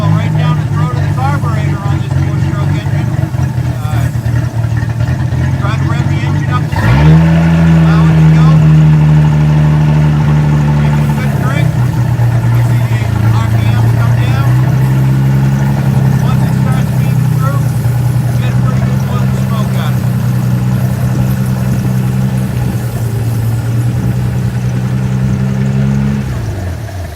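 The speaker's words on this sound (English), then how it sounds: "Trying to rev the engine" Engine revving after a fuel filter change, a loud steady mechanical drone that jumps in pitch partway through and holds at a higher, slightly wavering level.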